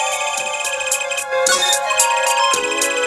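A cell phone ringtone plays in the Apollo Justice video game, a loud, close electronic melody of repeating tones and chimes heard alone without talk.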